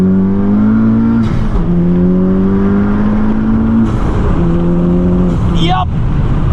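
Honda Civic Type R with a Stage 3 flex-fuel tune pulling hard in second gear, its engine note climbing loud and close in repeated rising sweeps, with brief upshift breaks between them.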